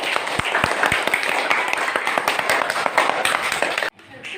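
A classroom bursts into steady clapping for a student named Rizky, a dense patter of many hands that runs for nearly four seconds before cutting off abruptly.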